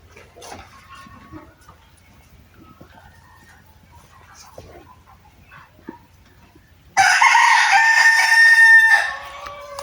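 A native rooster crows loudly and close on a mixed farm, a single long crow following quieter clucking and scattered farmyard noises.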